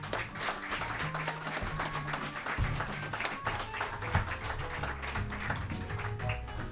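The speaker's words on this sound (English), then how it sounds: "One more round of applause." Applause from a live audience after an audio drama performance: a steady, moderately loud patter of clapping with some low tonal sound running beneath it.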